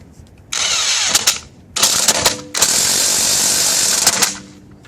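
A Harbor Freight 1/2-inch electric impact wrench removes nuts in three loud, close hammering bursts, the last running longest, with short quiet gaps between them.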